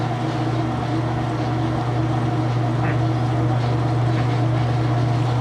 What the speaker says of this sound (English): this is going to be a fast spin because drain is always full speed